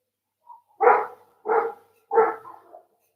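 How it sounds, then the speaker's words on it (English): A dog barks three times in an even rhythm, close and clear, each bark full and mid-pitched, after a faint whimper, with no other sound around it. "He is barking."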